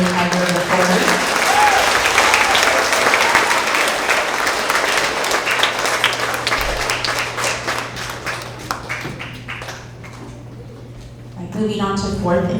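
An audience claps at a school end-of-year award assembly for third through fifth graders, sustained loud applause from a crowd that fades gradually, with talk rising again near the end.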